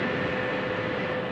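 A Class 375 electric multiple unit at Ramsgate station gives a steady, loud broadband rumble with a faint high whine, continuous throughout and with no talk.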